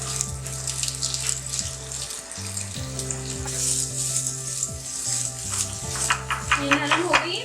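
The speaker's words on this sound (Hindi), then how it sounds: "तकरीबन 1 टेबलस्पून ऑयल डाला है हमने। हम अनियन शामिल कर देंगे, ये 1 अदद अनियन है।" Sliced onion frying in about a tablespoon of oil in a pan, a steady close sizzle and hiss running throughout, with a continuous low tonal hum underneath and some brief clattering near the end.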